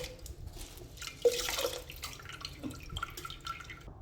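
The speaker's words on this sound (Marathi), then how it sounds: "इथे कुकरमध्ये पाणी टाकलं आहे, यात आपण तांदूळ धुवून टाकायचे आहे." Rice is washed by hand in water inside a pressure cooker, with soft close sloshing, swishing and drips in short uneven bursts, one louder splash midway.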